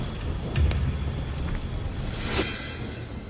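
Steady rain pours as a dense, even hiss, with a low rumble underneath and no voices.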